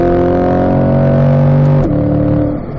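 A Chevy Corvette C8 with the Z51 package is accelerating hard on a race track, its engine a loud, sustained roar close by with a steady harmonic drone and a brief shift-like break near the end.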